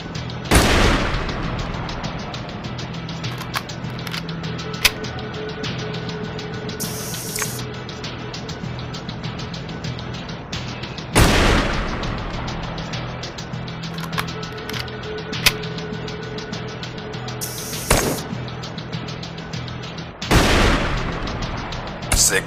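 Sniper rifle shots in a shooter game ring out as three sharp, loud cracks spaced several seconds apart, each with a short decaying tail over a steady bed of background noise.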